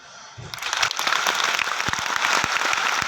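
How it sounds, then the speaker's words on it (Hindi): A full auditorium bursts into applause, the clapping swelling quickly from near silence into a loud, dense, sustained roar of many hands with sharp individual claps standing out. "पूरे सभागार की तालियों से गड़गड़ाहट में चाहूंगा"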